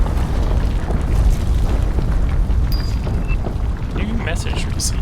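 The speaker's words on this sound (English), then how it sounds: "That's an explosion." Deep, rumbling boom of an explosion in the video game Planet Crafter, a loud low roar sustained across the whole stretch with scattered crackles and brief tonal game beeps near the end.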